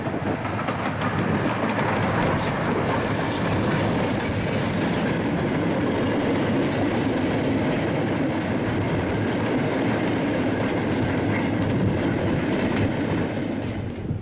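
A steam locomotive pulling a mixed goods train rumbles steadily past for the whole stretch, wagons rolling with a continuous heavy roar and faint clickety-clack, no voices.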